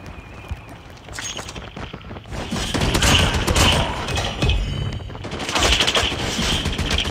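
Gunfire in a battle royale video game near an airdrop: loud, sustained bursts of rapid shots rising and falling across the scene, with little talking over it.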